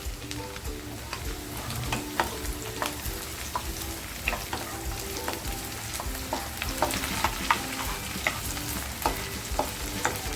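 Garlic and green chilies sizzle steadily in a hot pan while a utensil clicks and scrapes now and then as it is stirred.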